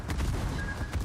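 Armor-piercing shells boom out from a warship's guns in the World of Warships naval video game, a quick cluster of muffled low blasts mixed with game sounds and a talking voice.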